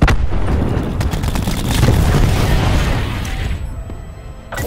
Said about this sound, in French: Lance une grenade à dispersion.